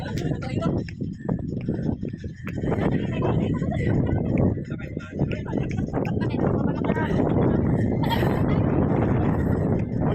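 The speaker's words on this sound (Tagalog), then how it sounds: "Dahil sobrang lakas ng hangin guys." Strong sandstorm wind rumbles and buffets the microphone throughout, with people talking over it.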